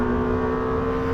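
Twin-turbo V8 of a Lamborghini Temerario on a race track, a steady sustained engine drone with strong even harmonics, loud and close, heard briefly on its own.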